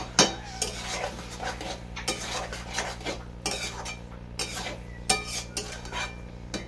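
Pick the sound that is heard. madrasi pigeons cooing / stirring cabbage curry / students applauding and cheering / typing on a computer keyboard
stirring cabbage curry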